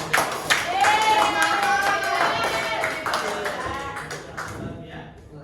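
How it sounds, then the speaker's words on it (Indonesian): A small group claps briefly during a religious lesson, the claps fading within a few seconds as voices and calls carry over and continue afterward. "Tepuk tangan."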